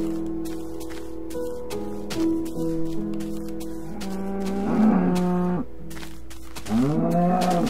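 Cows in the Minecraft video game moo repeatedly, several drawn-out lowing calls in sequence, clear and fairly close, with no talk over them.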